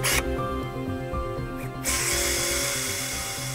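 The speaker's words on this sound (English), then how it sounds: "now we screw the plates onto the bone" Surgical screws are driven into metal plates on bone during veterinary surgery, a close whirring power driver running steadily with brief pauses and a grinding buzz, alone without talk.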